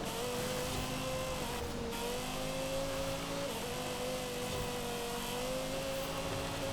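A racing car's engine in Forza Horizon holds a high, sustained screaming tone that shifts pitch slightly with gear and throttle changes, steady and continuous at moderate level.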